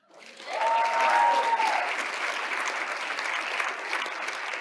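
Audience applause at a business keynote rises quickly and holds as steady, dense clapping from a large crowd throughout, with a brief tonal whistle-like sound early on.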